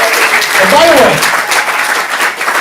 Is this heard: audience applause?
yes